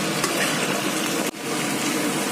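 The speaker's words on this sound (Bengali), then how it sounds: "এবার এসে একটু ভালো করে ভেজে নরম করে নিই" Chopped onions sizzle and fry in a pan during home cooking, a continuous loud crackling hiss with a brief dip partway through, no voices over it.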